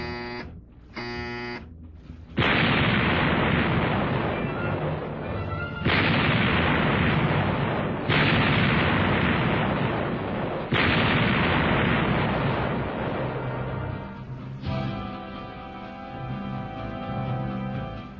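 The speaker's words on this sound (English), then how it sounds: "Turret 1, all guns, 1 round load. Turret 1, all guns, 1 round load. Shoot." Battleship gun turret firing all guns, a series of loud, heavy booms spaced a few seconds apart, each followed by a long rumbling roar, close and dominating with no speech over it.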